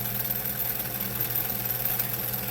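A 1950s German Pfaff 130 sewing machine runs at full speed, a close, steady whirring hum with fast even mechanical vibration and no talking.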